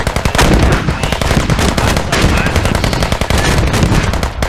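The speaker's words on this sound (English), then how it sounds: "Rockets over there." Rocket artillery fire in a video game rolls out as a dense, continuous barrage of sharp blasts and crackling booms, loud and close, with no pauses across the burst.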